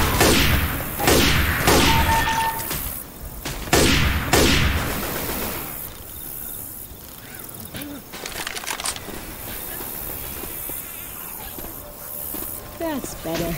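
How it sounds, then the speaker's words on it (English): Gunfire in Left 4 Dead 2 during a co-op carnival level, with several sharp bursts of shots early on, then hissing game noise and scattered effects, with voices talking over it. "Quit shooting me."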